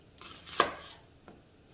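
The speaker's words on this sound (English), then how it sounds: "I'm going to cut this onion into strips" A knife chops sharply through an onion on a cutting board, one firm cut followed by a fainter second one, close and quiet otherwise.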